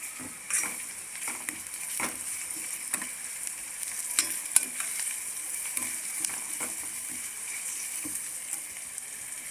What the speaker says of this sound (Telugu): ఇవన్నీ వేసిన తర్వాత ఒకసారి బాగా కలుపుకోవాలి